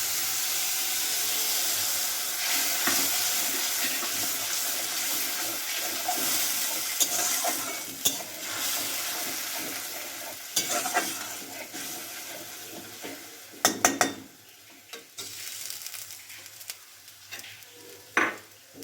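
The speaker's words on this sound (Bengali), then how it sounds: "এবার মশলাটা দিয়ে দেওয়া হচ্ছে তেলের মধ্যে।" Spice paste of cumin, ginger, chili powder and turmeric goes into hot oil, a loud hissing sizzle at first that gradually settles, broken by clatters and stirring scrapes of a pan toward the end.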